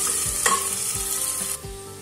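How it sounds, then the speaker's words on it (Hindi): Chopped onion drops into hot oil for a steady, close sizzle that runs throughout, with a few scraping stirs and clinks of a spoon against the pan. "तो ये तेल हो गया गर्म, तो तेल हो गया गरम और इसमें डाल देंगे हम चॉप करा हुआ प्याज। प्याज को हम फ्राई कर लेंगे।"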